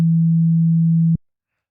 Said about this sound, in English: you're getting just a straight up sine wave